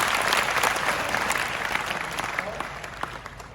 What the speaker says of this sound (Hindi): तालियां बजाते रहो बच्चे।